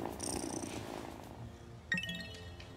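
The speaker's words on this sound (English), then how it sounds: "good cat." A cat in the video game Wylde Flowers purrs in a soft, steady rumble, joined by a faint chime and a sharper game sound near the end.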